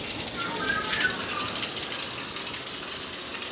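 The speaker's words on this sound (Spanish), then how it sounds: "Está lloviendo bien fuerte." Heavy rain pours down steadily, a dense, constant broadband hiss with no breaks, close and loud throughout.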